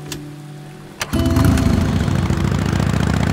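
A motorcycle engine catches with a short bang and then runs steadily at a rough, even idle, loud and close throughout.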